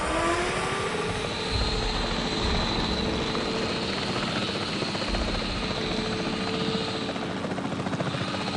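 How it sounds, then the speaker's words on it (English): A capture team helicopter flies in a Jurassic-themed video game, its rotor thumping steadily with a continuous engine drone that stays close and loud throughout. "The priority needs to be tranquilizing it with the capture team chopper."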